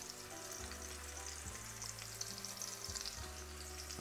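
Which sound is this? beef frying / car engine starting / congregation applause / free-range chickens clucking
beef frying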